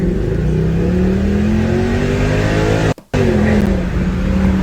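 A car engine revs hard and loud, its pitch sweeping up and holding steady, with a brief cut of silence partway through before the roar returns.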